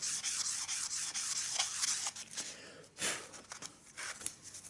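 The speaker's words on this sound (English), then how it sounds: "no pressure, just the weight of the file is enough" A file is drawn across a tanpura's jawari bridge to remove grooves, using only the file's weight. Soft, close rasping strokes repeat at a gentle, uneven pace, quiet and alone.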